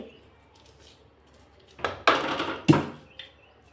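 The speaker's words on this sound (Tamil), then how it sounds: "அதையும் இதோட போட்டு மிக்ஸ் பண்ணிக்கிறேன்." Ivy gourd pieces are tossed together with crushed garlic in a bowl for a kovakkai fry, giving a few short clattering bursts of utensil against vessel after a quiet start.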